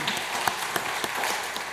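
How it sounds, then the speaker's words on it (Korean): A church congregation at a Sunday service claps to welcome a family, giving a short, even burst of applause with a few louder claps poking through. "박수로 환영하겠습니다"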